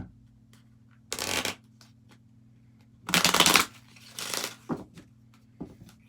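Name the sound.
shuffling a deck of tarot cards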